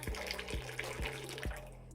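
Tea poured in a thin stream from a pot raised high, giving a soft steady trickle with faint splashing, quiet and close, with a few low thumps behind it.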